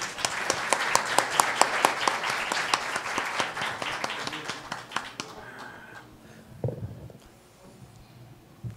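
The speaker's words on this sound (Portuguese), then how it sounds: "peço aplausos de boas-vindas" Audience applause welcoming a professor at a literary academy event, steady dense clapping for about five seconds that fades out, followed by quieter room noise and a few small bumps.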